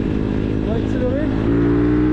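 A CRZ 140 or Bastos MXF 150 pit bike engine runs close by, a steady buzzing drone that climbs in pitch as it accelerates, climbing higher again toward the end.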